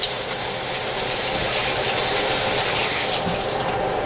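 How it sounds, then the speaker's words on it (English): Tap water runs steadily into a sink while flour is washed off hands, a close, constant splashing gush that holds an even level throughout, with no talking. "now I need to wash my hands again to get all the flour off"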